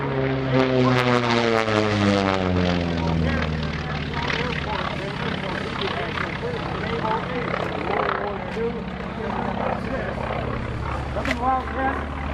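A propeller airplane used for a wing-walking act flies past at the EAA AirVenture 2018 airshow, its loud engine drone sweeping in pitch as it passes, then fading into a rough, steady roar with a commentator talking over it.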